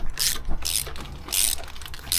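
A ratchet tightens nuts on a cast-iron engine during a rebuild, giving a few short, close metallic clicking bursts spaced about half a second apart.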